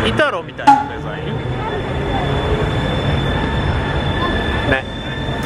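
Italian tram running in Florence, a steady broadband rumble of wheels and motor with faint tonal whine, close and continuous throughout, with a brief knock early on.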